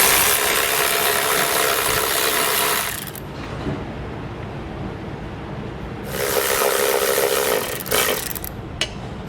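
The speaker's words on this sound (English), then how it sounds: "we're going to take a 15mm socket. We're going to remove the 3 nuts that are holding our bumper beam onto the body of the vehicle." A 15mm socket on a ratchet loosens the nuts holding the bumper beam to the body of a 2018 Chevrolet Volt, making a rasping mechanical whir in two sustained stretches with a quieter gap between them, close by with no talking.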